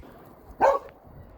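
A single short dog bark somewhere off in the distance, set against quiet outdoor background noise.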